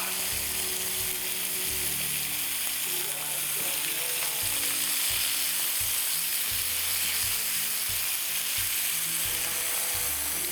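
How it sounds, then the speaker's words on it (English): Steady, dense sizzle of bacon frying in a pan, continuous crackling and hissing close up throughout, with low rumbles underneath. "That is the lovely sounds of bacon frying"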